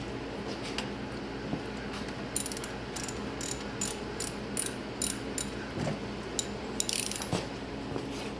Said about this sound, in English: Then we'll use our 15mm socket, and basically you're going to tighten them